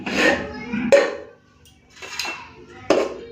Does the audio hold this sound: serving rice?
yes